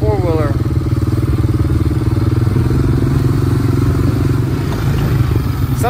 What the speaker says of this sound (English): I need that hand to, control the throttle on the four-wheeler.